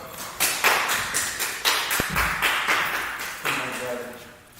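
A group in a class claps in a few loose, uneven bursts of hand claps, fairly close, with a sharp tap partway through and voices speaking between the claps.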